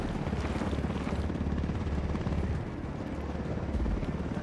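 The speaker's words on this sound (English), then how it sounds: "Hit the dirt, helicopter." Loud, dense helicopter rotor roar in a military video game, a constant churning thrum with heavy low rumble, close and unbroken, with no voices.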